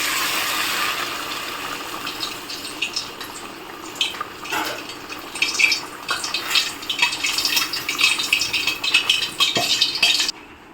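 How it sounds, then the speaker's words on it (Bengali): Water goes into a pan of oil-fried masala for a banana-flower curry (mochar dalna), making a steady splashing and sizzling hiss with scattered clinks of utensils against the pan. "একটু জল দিয়ে দেবো।"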